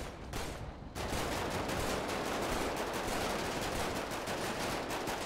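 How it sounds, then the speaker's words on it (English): Sustained automatic gunfire from a video game shootout, a rapid, loud, dense rattle of shots running almost unbroken after a brief quieter start. "I'm just aimlessly shooting at people."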